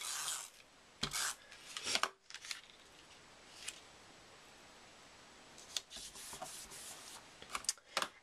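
A patterned paper strip is pressed onto a holiday card, heard as close, quiet rubbing and rasping paper swipes in short separate bursts with near-silent gaps between.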